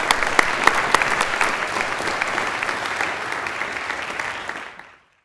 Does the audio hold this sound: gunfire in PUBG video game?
no